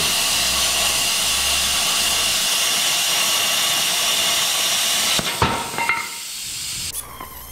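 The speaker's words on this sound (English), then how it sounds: "This Milwaukee 18-volt brushless grinder is fantastic." A Milwaukee 18-volt brushless cordless grinder works metal in a loud, steady high whine and hiss that holds for about five seconds, then breaks into rougher bursts and stops and starts as it is lifted and reapplied.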